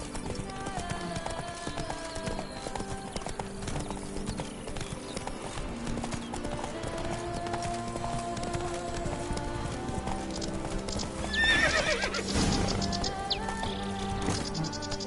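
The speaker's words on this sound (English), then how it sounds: "Whoa there, Roach." Horse hooves clip-clop steadily through a video game scene in The Witcher 3: Blood and Wine, with a whinny rising near the end over a constant layer of game music and ambience.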